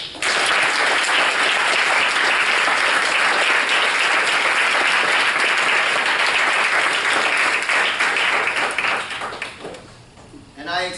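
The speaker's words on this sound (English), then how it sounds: "I extend that round of applause to all of you" A large audience gives a sustained round of applause for presenters at a summer creative project event, dense clapping steady for about nine seconds before thinning out, with a few voices near the end.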